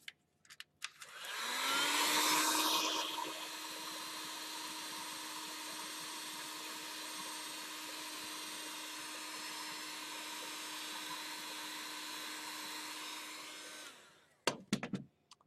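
Heat gun blowing hot air over a foam prop to draw out a hammered metal texture: a steady whirring rush that switches on, runs evenly and loudly for about twelve seconds, then cuts off, followed by a few clicks.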